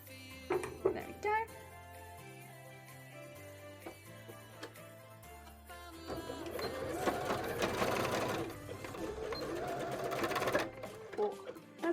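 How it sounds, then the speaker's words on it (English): A sewing machine runs on the bobbin while stitching a jellyfish bra, with a mechanical whir and ticking that turns louder and more rattly partway through; talking can be heard alongside it. "Oh, that's an angry bobbin noise."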